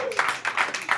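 A comedy club audience claps in short uneven bursts of hand claps at moderate distance, heard over a brief moment.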